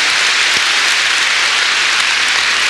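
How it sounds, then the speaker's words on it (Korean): A church congregation claps during a sermon, a loud, dense and even wash of applause that holds steady without talk. "우리 박수 한번 칩시다"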